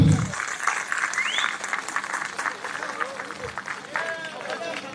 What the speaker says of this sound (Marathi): साहेबांचं टाळ्या वाजवून आपण स्वागत करावं.